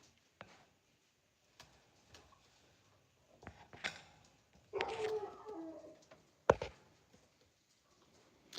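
Pigeons in a breeder loft, with a few soft coos and scattered wing flutters, taps and scuffles, fairly quiet and close, no voices.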